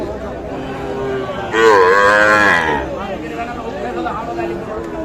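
A Sahiwal bull calf lets out a loud, drawn-out moo, close by, over a steady background of outdoor chatter and murmuring voices at a cattle market in Mymensingh.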